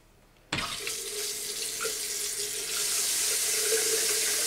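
Water gushes from a cold water tap on a leaking faucet under repair, starting abruptly after a short silence and then running steadily, close and moderately loud, growing slightly stronger as it flows.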